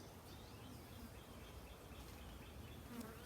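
A honeybee swarm buzzes while being moved into a Langstroth hive, a dense, steady hum of many wings close to the microphone, low in volume and without a break.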